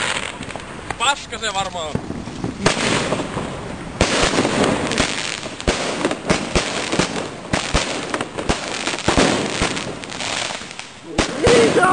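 A large outdoor fireworks display with rapid, loud bursts and crackling pops, many of them in quick succession, under wind noise on the microphone. Excited voices shout between the blasts.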